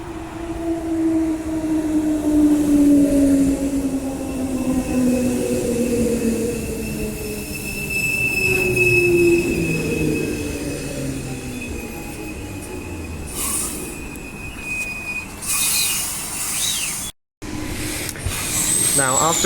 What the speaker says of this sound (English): here comes the train back to Bayswater now.